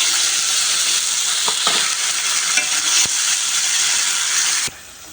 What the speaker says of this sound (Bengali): পেঁয়াজটা আমার ভাজা হয়ে গেছে, এবার পেস্ট করা মশলাগুলো দিয়ে দিব।